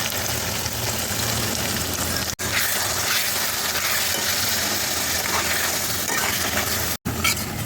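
Ginger, garlic, onion and green chilli paste sautéing with sour yogurt in a pan for dahi chicken, a steady loud sizzle and crackle running continuously with two brief dropouts.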